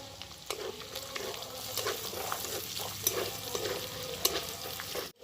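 Chopped onion, ginger and green chili fry lightly in a pan for fried rice, a steady sizzle broken by repeated scraping stirs of a utensil, close and clear with no voices.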